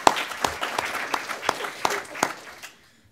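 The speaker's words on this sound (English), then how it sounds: "Another round of applause." A small audience claps for a few seconds, sharp individual claps standing out, then the applause fades away.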